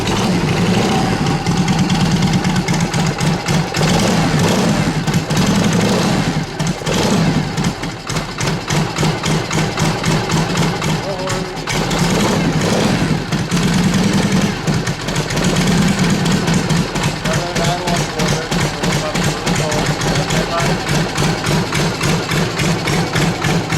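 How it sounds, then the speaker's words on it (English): A 1980 Harley-Davidson FLH motorcycle idles steadily after a cold start, its loud, continuous engine note running close and uninterrupted with a rhythmic low throb throughout. "It runs really well. Amazing how well this bike actually runs."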